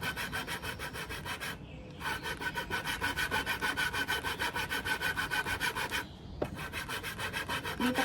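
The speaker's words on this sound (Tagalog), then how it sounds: "Sana naman huwag maputol yung lagari kasi medyo matigas ang kahoy." A small hand saw cuts through hard wood in steady, rhythmic back-and-forth strokes, close and continuous, with two short pauses between runs of rasping.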